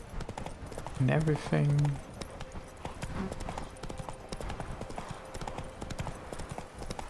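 The horse Roach's hooves clip-clop in a steady gallop in The Witcher 3, running throughout at moderate volume, while someone briefly speaks over the hoofbeats.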